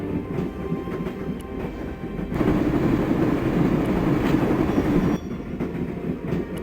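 A train carriage rattling along the rails in the video game Broken Sword, a steady rumbling clatter that swells louder for a few seconds in the middle, with no speech.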